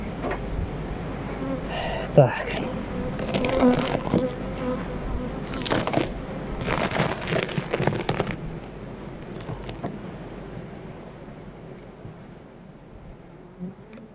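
Honey bees flying around hives in the evening, a soft buzzing drone under bursts of rustling and clatter from beekeeping work, with faint voices and wind in the background.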